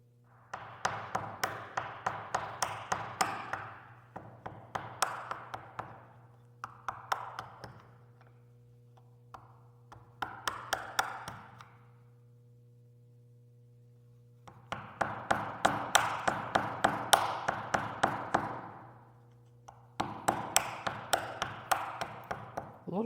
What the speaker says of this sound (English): Now I just need to knock out those little pieces with a chisel.